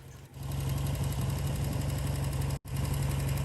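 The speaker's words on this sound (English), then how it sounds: "The Royal Enfield Interceptor 2." A Royal Enfield Interceptor 2, a British 750cc twin motorcycle, running with a steady, throbbing mid-pitched engine note that briefly cuts out for an instant before resuming.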